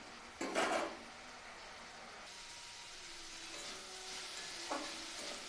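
Sponge gourd frying in a pan gets a brief stir, with a quick scrape of the spatula near the start and a softer one near the end over a faint, steady sizzle, quiet and close.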